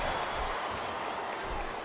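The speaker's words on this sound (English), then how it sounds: "Listen to the crowd, JR." A steady roar of arena crowd noise in the wrestling video game SmackDown vs. Raw 2007 during a tables match, a continuous, even wash of cheering with no distinct peaks.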